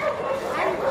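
Dogs at a street dog market yip, whimper and bark close by in a steady stream of noise, with people talking over them.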